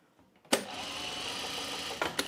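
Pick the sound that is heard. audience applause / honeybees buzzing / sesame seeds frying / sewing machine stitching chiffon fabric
sewing machine stitching chiffon fabric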